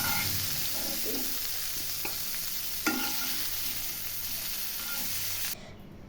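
Large freshwater prawns fry in a pan with a steady faint sizzle and occasional utensil clinks and scrapes, close up, then the sizzle cuts off abruptly near the end.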